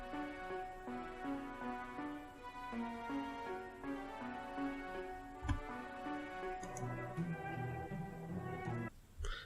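Plucked string patch from the DSK Strings VST plays a steady, repeating rhythmic figure of short, crisp notes, moderately loud within a pop song arrangement.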